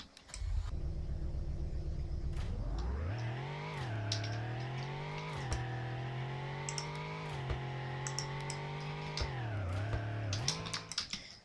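A car engine starts up in the Roblox game Car Dealership Tycoon, cranking low and then settling into a loud, steady idle with several brief revs that rise and fall. Keyboard clicks tap along in the background.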